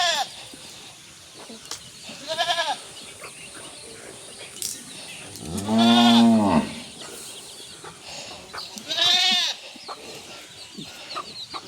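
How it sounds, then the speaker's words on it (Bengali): Black Bengal goats at feeding time on a small farm, with several loud bleats and calls spaced a few seconds apart, close by, over quieter background rustling. "এই দেখো খেতে দিয়েছি, সব"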